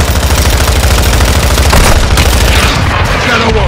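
Heavy gunfire and booming blasts from Shadow One's attack on a bridge in Call of Duty MW2 roll on loud and continuous, with rapid bursts layered over deep rumbling impacts.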